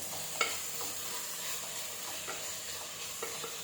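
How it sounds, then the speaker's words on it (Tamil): Onions sautéing with salt in a pan sizzle steadily, with soft scraping stirs and occasional light clicks of the utensil, close by and without any talking. "சால்ட்டு போட்டு வதக்கணும்னா கொஞ்சம் வந்து வெங்காயம்லாம் சீக்கிரமாக வதங்கிடும்."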